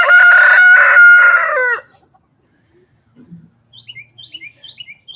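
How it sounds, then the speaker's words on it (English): A Buff Orpington rooster gives one loud, close crow lasting under two seconds, then falls quiet as faint, soft chirps and clucks from small birds follow in the background. "y'all want to see Jaxson crow"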